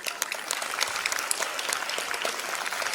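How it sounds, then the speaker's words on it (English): A school annual day audience applauding to welcome dignitaries, brisk steady clapping from many hands in a hall, fairly soft and even throughout. "Let us all welcome our all dignitaries with a big round of applause."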